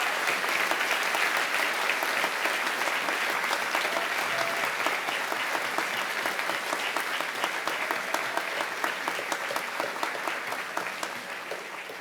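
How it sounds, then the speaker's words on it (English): Audience applause at a SOAS university graduation ceremony in 2023: a large crowd claps steadily and loudly for the whole stretch, the dense clapping tapering slightly near the end. "Give everybody a round of applause"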